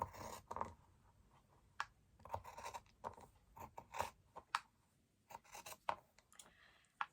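Scissors trim a fabric patch for a patchwork T-shirt front panel with a series of crisp, quiet, close snips, irregularly spaced with soft rustling between cuts.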